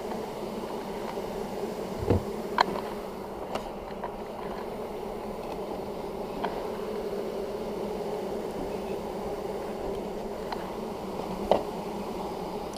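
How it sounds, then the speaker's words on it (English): A mass of honeybees drones as a package is installed in a hive, a steady, dense hum that stays continuous throughout, with a few faint knocks and clicks nearby. "here's a mass of bees for you."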